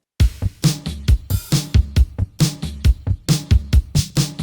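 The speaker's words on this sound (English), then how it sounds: "So the drum pattern sounds like this." A programmed drum beat plays alone: punchy kicks and crisp snares in a steady, evenly spaced rhythm, tight and loud.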